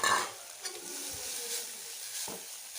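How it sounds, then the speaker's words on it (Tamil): Grated coconut fries gently in ghee over low heat, a soft, close sizzle under a few stirring scrapes and light knocks of a utensil against the pan. "இதுலேயே நம்ம எடுத்து வச்ச தேங்காய் அதை போட்டு ஃப்ரை பண்ணிக்கலாம்."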